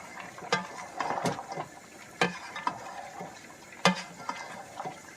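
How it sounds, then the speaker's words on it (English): A food mixture is stirred in a pan, giving a faint sizzle with a few sharp scraping clicks of the utensil against the pan, spaced irregularly and close by. "So I'm going to stir all of that in."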